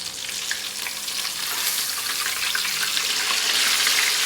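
A whole chicken frying in hot oil, sizzling loudly and steadily with dense crackling and popping up close, the bubbling growing slightly stronger throughout, with no speech.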